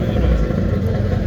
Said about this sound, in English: Another 911 coming.